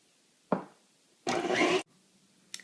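A stand mixer beating angel food cake batter whirs in a short motor burst of about half a second, with a brief whirr before it and a faint click after, otherwise quiet.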